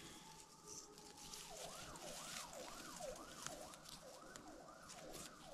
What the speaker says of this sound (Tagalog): Ang lakas ng sound ng ambulance